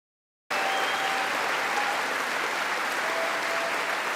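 Members of the US Congress applauding an address by Netanyahu in the chamber, a broad, sustained roar of many hands clapping that begins abruptly after a short silence and continues evenly, slightly distant.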